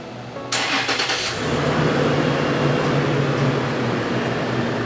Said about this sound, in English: This will engage the remote start and start the vehicle.